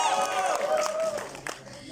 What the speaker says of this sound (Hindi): तालियां बजा दीजिए एवरीवन